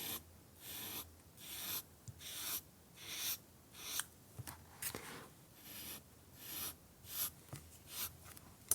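An alcohol marker scratches and rubs across transparency paper in repeated short strokes, each rasping pass separated by brief pauses, close and fairly quiet with no voices.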